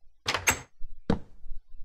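Minecraft door clicking open and shut: a quick pair of sharp wooden clacks followed a moment later by a single further clack, close and alone.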